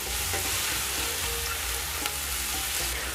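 Red kidney beans tipped into dill frying in oil, a dense, loud, continuous sizzle with faint stirring scrapes, close up and without speech.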